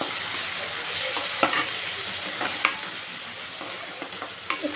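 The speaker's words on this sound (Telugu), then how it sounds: "ఇలా మగ్గాక టమోటా అంతా పసుపు వేసి బాగా కలిపాలి" Tomato and turmeric are stirred in a sizzling pan, with a steady frying hiss. Sharp spoon scrapes and taps against the pan recur every second or so.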